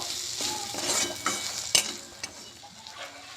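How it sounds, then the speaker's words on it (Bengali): Spice paste with turmeric and chili powder sautéing in a pan for soybean curry, a steady close sizzle with scraping stir strokes and a sharp utensil clack partway through, no voices. "এবারে আমি মশলাটাকে ভালো করে কষিয়ে নেব"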